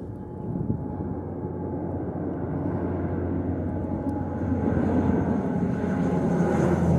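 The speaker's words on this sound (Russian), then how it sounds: "Вон самолет, хотите посмотреть?" A steady low engine roar of an airplane passing high over a farm field, gradually growing a little louder, with no voices.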